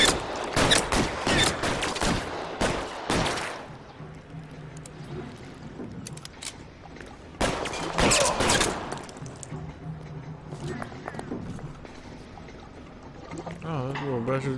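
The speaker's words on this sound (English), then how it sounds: "I got the shotty. I'll lay down some suppression fire." Shotgun suppression fire in the L.A. Noire video game, loud rapid blasts clustered at the start and again midway, with quieter rumbling stretches and brief talk between them.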